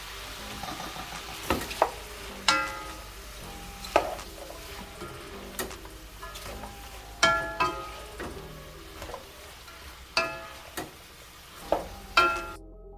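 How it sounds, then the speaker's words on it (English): Snow peas and snap peas hitting a hot pan for lo mein over high heat, a continuous sizzle and fry broken by sharp clanks and scrapes of a utensil against the pan every second or so. "While this heat is on high, I'm gonna add in my snow peas, snap peas."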